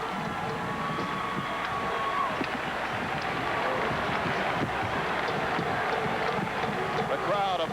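A college basketball arena crowd of more than 9,700 roars steadily throughout a game, a dense, continuous wash of cheering with a commentator's voice talking over it.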